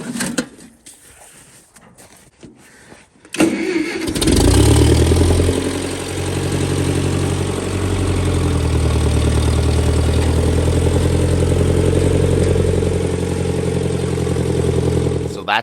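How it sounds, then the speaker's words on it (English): A tractor fitted with a front loader runs its engine up close at a steady idle after starting a few seconds in, a loud continuous low rumble outdoors in early spring, with quieter handling sounds before it. "It sure is handy to have the tractor with the loader."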